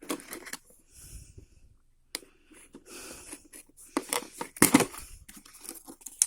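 Tape is torn off a Transformers and Teenage Mutant Ninja Turtles toy package during unboxing. Close tearing and crinkling bursts come in irregular snatches, with rustling packaging between them.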